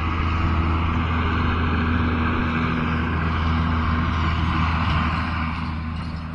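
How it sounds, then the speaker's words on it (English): A big tractor drives past near a lettuce patch, its low engine rumble steady and loud throughout before easing slightly at the end, with no talk over it. "Big old tractor going by."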